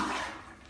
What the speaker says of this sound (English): Commode's a premier. Let's see how it does when you flush. We're gonna flush it.